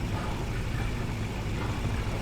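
A tank engine strains at full throttle in the video game War Thunder, giving a constant low, rough rumble that drones steadily and fairly loudly with no breaks.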